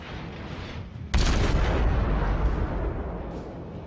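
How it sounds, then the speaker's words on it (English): A naval gun fires armor-piercing shells from the Königsberg cruiser in World of Warships. One sudden, loud, deep boom follows a quieter background, then a long rumbling tail fades away with a faint later pop. "And he's within range, so I fire armor piercing."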